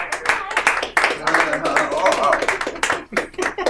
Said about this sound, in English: Weird point to get an applause break